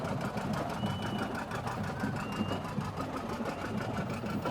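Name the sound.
antique restored 1958 John Deere 730 tractor engine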